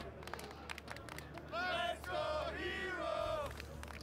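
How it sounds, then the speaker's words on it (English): An esports arena crowd at IEM Katowice 2023 cheering and chanting for StarCraft II player herO during the semifinals, a broad roaring hubbub with rhythmic chant swells rising in the middle, heard under a caster's voice. "the crowd's getting it into it. herO getting some love, getting some excitement, getting some chants going"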